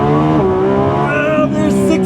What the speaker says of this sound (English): Corsa and performance hybrid, then thrust mode. Foot on the brake, pin the throttle,